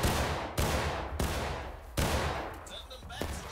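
Infantry rifles fire in a ragged volley during a War of Rights battle, four heavy broadband cracks spaced roughly half a second apart, each trailing into rumbling echo, with a distant shout faintly heard near the end.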